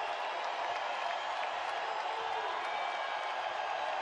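A big college basketball arena crowd roars and cheers steadily at South Dakota vs. South Dakota State, a continuous dense wash of noise with no clear breaks.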